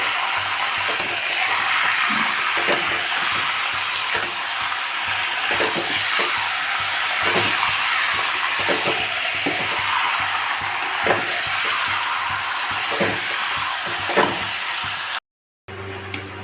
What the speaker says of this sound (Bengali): এবার ম্যারিনেট করা চিকেনটা আমি তেলের মধ্যে দিয়ে দিলাম এবার গ্যাসটা জোর দিয়ে এটা আমি ভালো করে